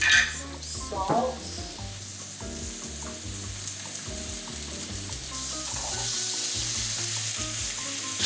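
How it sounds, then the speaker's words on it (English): Loud, continuous sizzling of onions caramelizing in a frying pan with salt, with a brief clatter of utensils at the start and a low hum underneath. "I'm just gonna talk over here because it's sizzling pretty loud."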